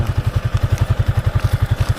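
A motorcycle engine chugs at close range near a riverside fishing spot, a loud, steady rapid thumping pulse of even beats with faint clatter, no voices.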